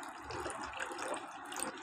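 Room-temperature water is poured into a drink, a soft, steady trickling splash heard close up for a couple of seconds, fairly quiet, with no talking.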